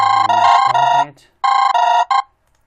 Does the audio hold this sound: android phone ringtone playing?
yes